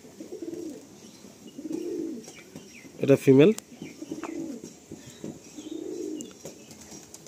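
Madrasi pigeons coo in a loft, soft repeated low calls rising and falling at a steady pace close by, while someone speaks over them with a brief louder burst of voice and flutter midway.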